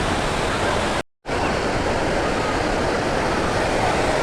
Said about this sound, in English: So this waterfall is called Bekhal, was it?